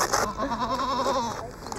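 A fainting goat in Marshall County bleats once, a close, wavering cry lasting over a second with a brief fainter lead-in, standing alone.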